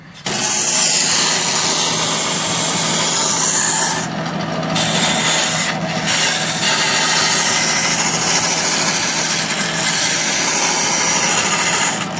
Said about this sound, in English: this one is purely a sanding machine now